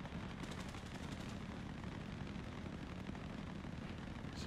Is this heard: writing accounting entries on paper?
no